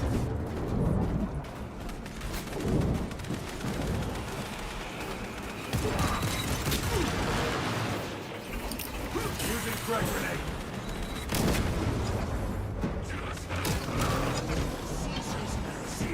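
Krak grenade blasts in Space Marine II, heavy booming bursts amid ongoing gunfire and combat noise, recurring several times across the stretch with a voice talking over it.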